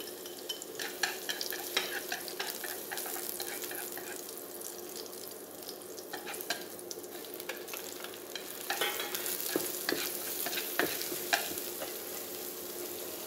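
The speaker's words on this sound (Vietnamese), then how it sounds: "bây giờ mình sẽ bắt cái chảo lên cho tỏi ớt rồi" Garlic and chili sizzling in a hot pan while being stirred, a steady crackling fry with clinks and scrapes of a utensil, close and continuous.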